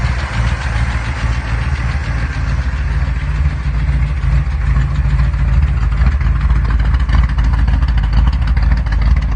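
A Tri-Power W engine pulled from a 1958 Chevrolet Impala idles on stock mufflers, a steady loud low rumble with an even rapid pulse and no talk over it.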